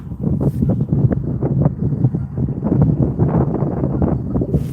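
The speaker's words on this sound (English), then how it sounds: "It's a little windy now." Steady gusting wind at the shore at dead low tide buffets the microphone, a continuous low rumble without any voices.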